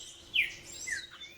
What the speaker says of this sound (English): The blue-winged mountain tanager is new to us too.